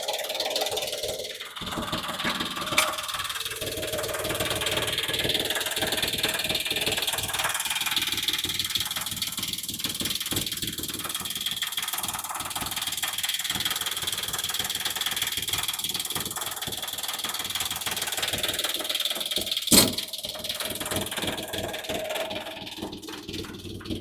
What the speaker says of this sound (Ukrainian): Давайте глянемо, як працює двигун